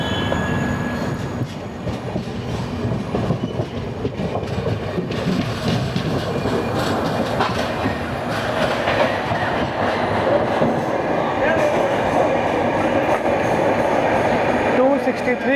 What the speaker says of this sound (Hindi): जब ट्रेन स्लो हो जाती है रात के समय में, पूरा साउंड सुनाई देता है आपको।